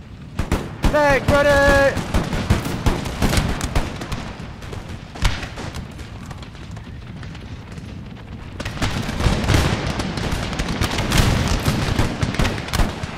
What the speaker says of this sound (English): Prepare to fire, boys.